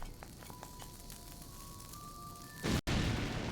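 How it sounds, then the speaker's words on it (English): Soft chiming game tones give way to a bomb exploding in Zelda: Link's Awakening on Switch, a short, loud, harsh burst that cuts off abruptly. "I should go at least try and put a bomb down."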